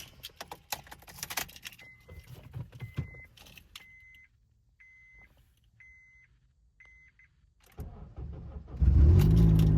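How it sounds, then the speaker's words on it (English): Keys jingle and a car door thuds, then a faint chime repeats before a Honda Accord's turbocharged K24Z3 engine cranks and catches, settling into a loud, steady idle. "So, start the car."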